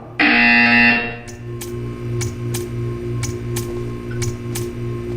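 A loud, harsh buzzer in Portal 2 blares for about a second, then a steady hum continues with regular faint ticks.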